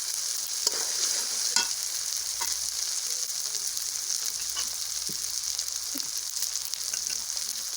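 Ground spice paste frying in oil with boiled beef, a continuous bright sizzle throughout with occasional soft taps of a stirring spoon, steady and close, with no talking.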